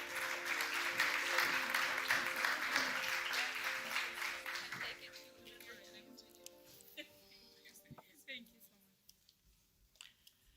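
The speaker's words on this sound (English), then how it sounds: "A round of applause." Audience applause at a sustainability conference in Hamburg, loud and sustained for about five seconds, then fading into scattered claps and a few final isolated claps in a quiet room.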